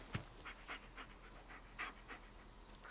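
A dog panting in the Blair Witch video game, a steady run of quiet, rhythmic breathy huffs close by, with no talk over it.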